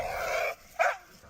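A reactive dog gives two short, sharp barks close by during an outdoor training session, the first a bit longer and the second a quick yip.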